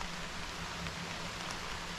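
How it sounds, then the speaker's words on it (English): Steady rain falls outdoors during a daily nature walk, a soft continuous broadband hiss of drops spread evenly across the whole stretch with no voices present. "The way the rain's coming down, this will probably be my last shot."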